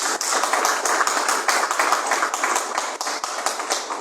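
Church congregation clapping for Jesus in steady, rapid rhythmic claps that stay loud and even for the whole stretch, with no talk over them.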